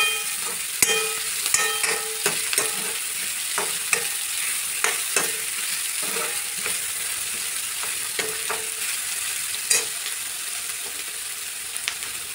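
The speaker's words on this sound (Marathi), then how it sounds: "शिमला मिरची परतवून घेते." Capsicum sizzling in a pan as a spoon stirs it, steady frying hiss broken by sharp clicks and scrapes of the utensil against the metal, close and clear with no talking.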